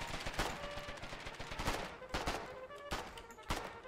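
Gunfire in the war game Foxhole, rapid cracking shots from several guns, some in quick bursts and others spaced out, mid-distance and fairly loud throughout.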